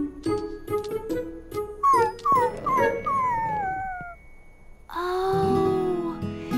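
A cartoon puppy howls and whimpers in a string of rising and falling yelps and long wavering howls, loud and close, ending in a drawn-out mournful cry.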